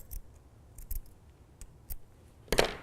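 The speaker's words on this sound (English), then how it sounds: "I'm going to cut a slit right here" Scissors snip a slit into the folded edge of T-shirt yarn, giving a few sharp, close cuts spaced apart and ending in a longer, louder snip with no talking.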